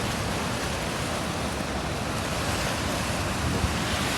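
Steady, loud wind and rushing water at Yeldari dam on the Khadakpurna river, a continuous broadband roar with wind buffeting the microphone and no pauses.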